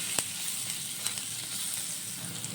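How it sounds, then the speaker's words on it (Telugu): Rice with salt fries in a pan for cauliflower fried rice, giving a steady, dense sizzle with a few light clicks of the spatula, close and even throughout, with no talking. "ఇప్పుడు ఈ రైస్కి సరిపడా కొంచెం సాల్ట్ యాడ్ చేసుకుందాం. కొంచెం ఫ్రై అవుతాం."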